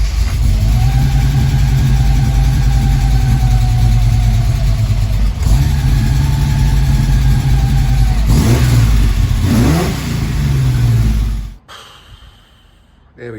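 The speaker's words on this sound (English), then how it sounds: "Let's start it up now again. Fuel pump kicking in, give her a couple of taps." A classic car engine cranks, catches and revs in a few strong bursts, running steadily up close before cutting off near the end.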